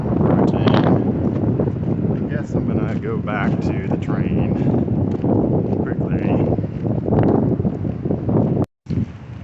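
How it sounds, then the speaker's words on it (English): Strong gusty wind buffets the microphone outdoors ahead of a thunderstorm with a dust storm, a loud continuous roar with rushing surges, while a person talks over it. "there's a lot of wind"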